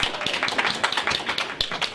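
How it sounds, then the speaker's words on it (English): A small group claps for a couple of seconds, a quick scattered patter of hands fairly close by. "Give Edward a round of applause"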